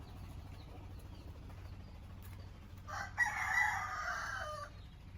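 A rooster crows once, somewhat distant, on a farm with geese, cows and other livestock, over steady low outdoor rumble and background noise.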